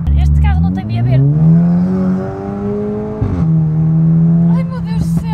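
Loud, close engine note of a Volkswagen Golf V GTI with over 300 hp, accelerating through rising gear pulls with a sharp break at a shift, heard from the cabin with a voice audible near the end.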